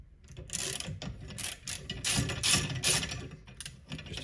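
A ratchet with a 16mm deep reach socket undoes a boiler fuel nozzle held in a vise, giving a steady run of loud, close ratcheting clicks with short pauses and no talk.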